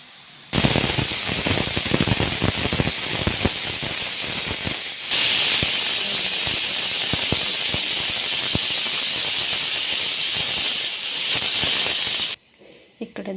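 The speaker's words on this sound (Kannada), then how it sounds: "ಕುಕ್ಕರ್ ಕುಗ್ತಾ ಇದೆ" A loud, continuous steam hiss with a high whistling tone blasts from a pressure cooker cooking dal for about twelve seconds, then cuts off abruptly, followed by quiet clinks.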